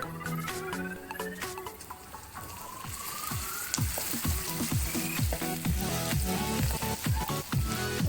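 Whole dried chillies, cumin, cardamom, cloves and onion tempering in hot oil, a crackling sizzle with sharp pops and spatters that grow busier as it cooks.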